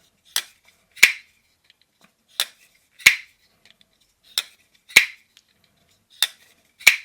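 Sharp metallic clicks in pairs as a Bladebinge x Vero Engineering Avid folding knife blade flicks open, a lighter snap followed by a heavier thwack, repeated four times at a steady pace, close and crisp against silence.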